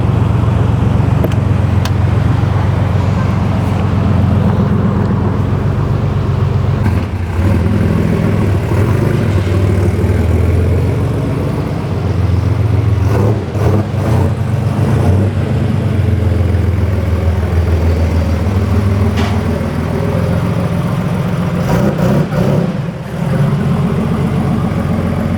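A Porsche 964 Turbo cruises the Wangan highway at night in Japan, its engine droning steadily with road and wind roar filling the cabin, occasional gear shifts and revs, no talking.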